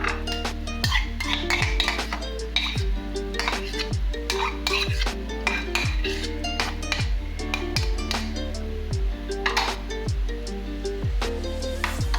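A spoon mixes mayonnaise with chili sauce and garlic chili sauce in a bowl for cheese-loaded fries, giving repeated light clinks and scrapes that sit under loud, continuous background music.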